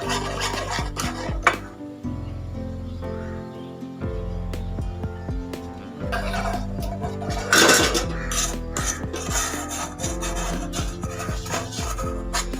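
A spoon scrapes and clinks around a pan as cake mixture is stirred and mixed continuously, close up, with irregular rubbing and tapping against the metal.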